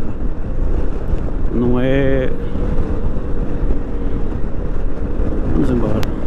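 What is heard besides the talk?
Yamaha XMAX 300 scooter engine while riding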